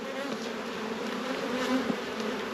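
Honey bees at a home hive give off a dense, steady buzz, close and continuous, with no voices.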